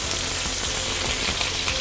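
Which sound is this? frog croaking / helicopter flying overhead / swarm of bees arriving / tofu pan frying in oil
tofu pan frying in oil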